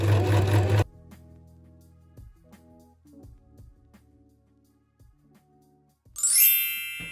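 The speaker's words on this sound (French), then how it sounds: "Maintenant, je vais commencer à coudre et j'ai choisi ces points-là. Donc, c'est des points droits." Sewing machine running straight stitches on a garment alteration, a short loud burst of motor noise followed by quiet tonal hums and clicks, then a bright ringing tone near the end.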